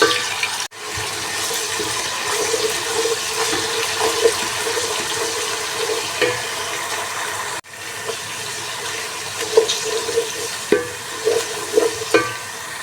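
Garlic and ginger fry in hot oil for egg palak, giving a steady, close sizzling hiss with occasional soft stirring knocks and a couple of brief abrupt breaks.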